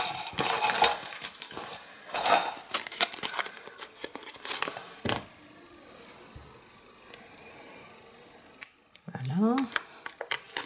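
Scissors snip white yarn while knitting a hat and snood, giving several crisp cuts among rustling and handling noises. Someone speaks French over parts of it.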